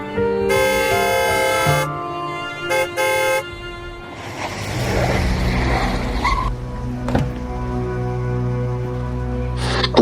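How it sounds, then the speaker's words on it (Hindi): A car horn sounds in long and short blasts, loud and close, against street traffic noise, with a further brief honk near the end. "कब से हॉर्न बजा रहा हूँ"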